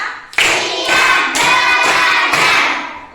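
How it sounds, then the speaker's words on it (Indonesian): A class of fifth-grade children claps in bursts, several loud rounds of hands striking together in a brisk, uneven rhythm, close by. "Tepuk 1, tepuk 2, tepuk 3, tepuk 4, tepuk 5."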